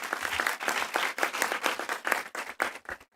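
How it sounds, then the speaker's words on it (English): Graduating class and audience at a university graduation ceremony clapping for themselves, a loud, dense round of applause from a large crowd, steady and unbroken. "You can clap for yourselves."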